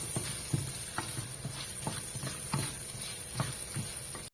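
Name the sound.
coconut pieces frying and being stirred in a pan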